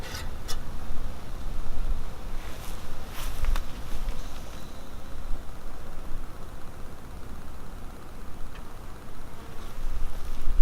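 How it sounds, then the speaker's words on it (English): Honeybees from a newly installed nuc hive, buzzing steadily and close by as a dense, continuous hum with no talk over it. "take this off, shake the bees off here"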